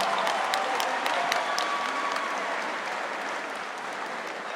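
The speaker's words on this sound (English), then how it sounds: "Ladies and gentlemen, how about a big round of applause for these two warriors slugging it out." Crowd at a Dragon House 25 mixed martial arts event applauding two fighters after their bout, a dense, steady roar of clapping that fills the room throughout and eases off slightly toward the end.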